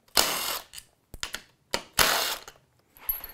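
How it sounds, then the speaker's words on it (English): A ratchet spins out 8 mm clutch cover bolts during a Rekluse TorqDrive clutch pack install, in several short, sharp bursts of close, crisp clicking separated by brief pauses, with no talking. "you're gonna remove all of these 8 millimeter clutch bolts here to"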